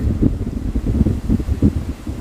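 Strong wind buffets the microphone beside a lake on a quick roadside stop, a loud, steady low rumble with gusting surges and no voices.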